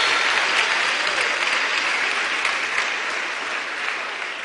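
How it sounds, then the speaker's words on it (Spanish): A church congregation applauds loudly, a dense, sustained wash of clapping that fills the space and tapers slightly toward the end. "Denle un aplauso fuerte."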